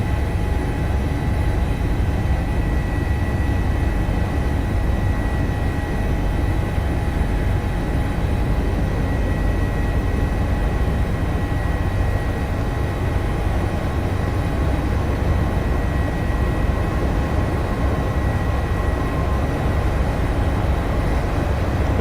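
An HPG H145 helicopter in the Microsoft Flight Simulator 2024 video game, a loud, constant engine and rotor drone with a steady whine, heard from the cabin without pause.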